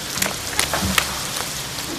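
Rain falls on a city street, producing a steady broadband hiss dotted with sharper patters and drips, fairly loud and continuous with no voices.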